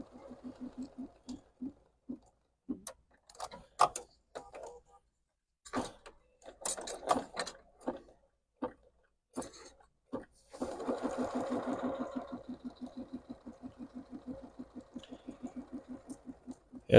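A BERNINA sewing machine with embroidery module stitches out a quilt label, giving bursts of rapid mechanical needle chatter and whirring broken by short pauses, then a long steady run of even stitching close by.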